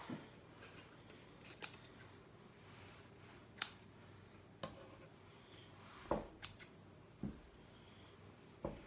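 Sharp scissors snipping wreath mesh in scattered single cuts, close but soft, with faint rustling of the material between snips and no talk.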